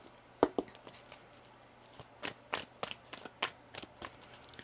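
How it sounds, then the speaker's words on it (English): Tarot cards being shuffled by hand, a series of soft crisp riffles and taps spread irregularly across a quiet room. "One more shuffle here."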